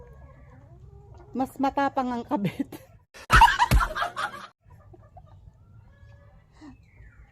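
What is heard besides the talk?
chickens clucking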